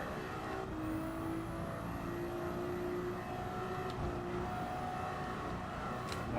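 Racing car engine in Gran Turismo on the Nürburgring Nordschleife, run counter-clockwise, droning steadily and loud with rising pitch sweeps as it climbs through gears, a sharp shift break near the end.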